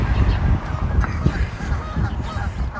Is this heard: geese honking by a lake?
yes